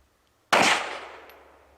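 A single sharp gunshot fired through a setup of simulated interior walls and an exterior wall cracks out loudly, followed by a fading, ringing tail, with no voices.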